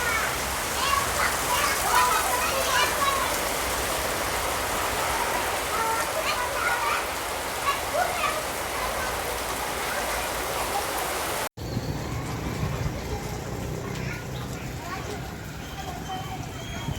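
First rain of the year falling in Nanjangud, a steady close hiss of raindrops on surfaces lasting throughout, with a voice talking faintly over it and a brief break near the end.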